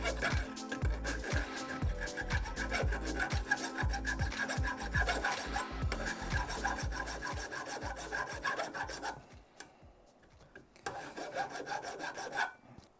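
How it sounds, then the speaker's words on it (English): A file rasps a burr off a metal edge in quick, regular back-and-forth strokes, close and clear. The strokes run steadily, pause briefly, then resume. "Up a bit, get the burr off."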